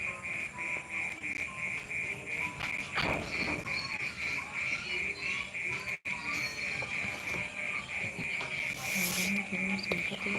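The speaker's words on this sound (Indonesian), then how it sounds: "Iya, ini suara kodok." Frogs croak on and on through a night near a swamp in Papua, a steady pulsing chorus at close to moderate range, with crickets and insects chirring alongside.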